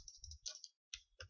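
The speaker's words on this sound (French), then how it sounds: "on entend mon clavier et ma souris" A computer keyboard and mouse click in a few quick, quiet taps close by, with short gaps between them, during PC gameplay.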